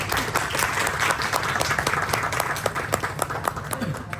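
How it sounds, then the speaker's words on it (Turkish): A crowd applauds steadily, many hands clapping in a dense, continuous patter at moderate volume throughout. "bir alkış rica ediyorum"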